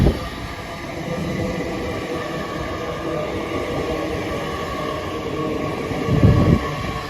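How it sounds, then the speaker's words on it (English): A Great Western Railway nine-coach IET train rolls through Didcot Parkway station, a steady mid-distance rumble of wheels and motors with faint tonal whine, swelling briefly near the end. "the next train to show its face is going to be the 1607 Great Western Railway service to Weston-super-Mare from London Paddington, formed of another 9-coach IET"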